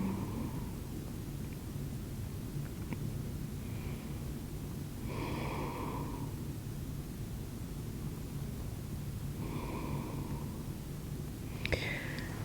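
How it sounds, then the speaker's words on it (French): Slow, deep breaths drawn during a beginner yoga session, a few soft airy inhale and exhale swells rising and falling over steady background hiss, close and quiet with no talking. "Encore 2 respirations."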